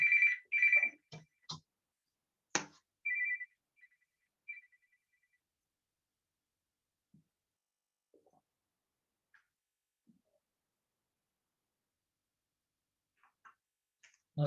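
A telephone rings in a few short electronic bursts at the start, fairly faint in an otherwise quiet room, followed by scattered soft clicks and small noises.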